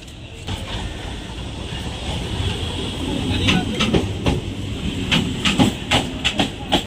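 Passenger train ride in Bengal heading toward Ballygunge, with a steady rumbling rail hum and faint hiss throughout, plus intermittent sharp clanks and rattles of the carriage growing busier toward the end.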